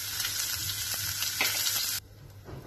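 Cumin seeds and chopped green chili sizzling in hot ghee in a kadai, a loud, steady frying hiss that drops away sharply near the end.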